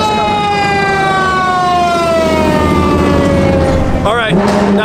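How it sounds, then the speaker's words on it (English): A fire truck siren wails steadily and loudly nearby, its tone sliding through long rising and falling sweeps, with a brief burst of a different yelping siren pattern near the end amid street noise. "The fire truck's coming."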